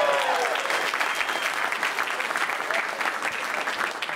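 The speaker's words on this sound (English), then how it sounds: "Give Johnny a round of applause here." A crowd applauds loudly and steadily, dense clapping filling the whole moment with a few faint cheers mixed in.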